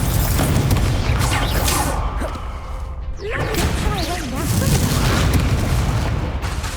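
Incendio fire spell cast in the Hogwarts Legacy video game, with loud whooshing, whip-like flame blasts and booming impacts amid busy combat sounds.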